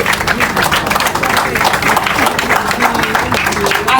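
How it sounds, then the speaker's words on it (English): Standing audience at an estate land-sale event giving a round of applause, loud continuous clapping with some crowd noise and voices underneath. "can we all stand up and give me a proper round of applause?"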